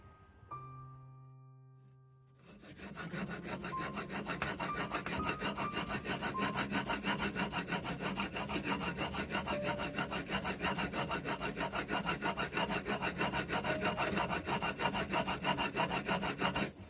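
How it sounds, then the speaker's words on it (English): An old carpenter's tool being sharpened by hand, a steady rasping, grinding stroke that runs continuously and loud after a brief quieter start, with no talk. "I'm now going to give it a sharpen."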